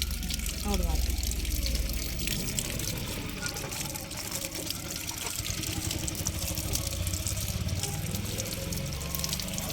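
Green rose apples (chambakka) being washed in water, a continuous close splashing and running-water wash that persists the whole time, with voices talking over it.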